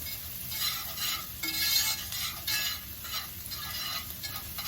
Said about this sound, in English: you're only going to let it saute up here